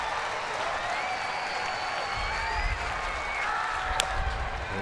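A baseball stadium crowd of 16,000 cheers and applauds, a dense, steady wash of clapping and voices at moderate distance with a brief sharp whistle near the end.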